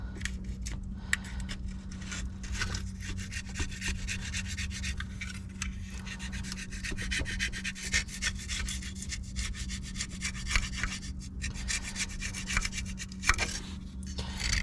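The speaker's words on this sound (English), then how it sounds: "So I'll just take my little scraper," A hand scraper works over the oil cooler surface of a 6.7 Cummins engine in a long run of gritty, rapid scraping strokes over a steady low hum.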